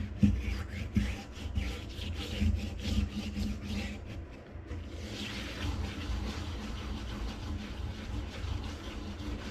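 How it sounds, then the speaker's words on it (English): Coarse kosher salt grinds against a cast iron pan in steady, gritty back-and-forth scrubbing strokes, close and continuous, with a brief pause partway through before the rasping resumes. "I find that the coarse kosher salt is the best way to go when you're cleaning your cast iron."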